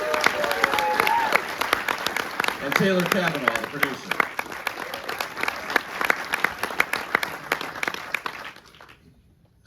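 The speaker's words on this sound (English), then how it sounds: "Please round of applause." An audience claps steadily for guests at a Q&A screening of the Thunderbirds film Air Force Elite, dense applause that fades out near the end, with a voice introducing the producer over it.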